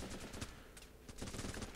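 Rapid rifle gunfire in the war game Running With Rifles, a close, dense burst of shots that stutters briefly and then resumes, loud and steady across the short stretch with no voices over it.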